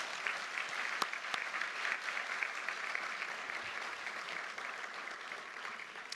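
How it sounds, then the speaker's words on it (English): A graduation ceremony audience applauds in a steady, even wash of many hands, fairly distant and soft, sustained for several seconds without speech. "So ladies and gentlemen, will you please give Sahel and Anne a special round of applause."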